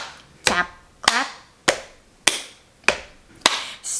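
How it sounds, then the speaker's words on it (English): Six sharp, evenly spaced hand claps, with lighter lap taps between them, set to a steady sing-along rhythm at a children's story time. "Can you tap your lap and clap with me?"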